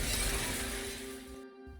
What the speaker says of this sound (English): Finally, the core shatters.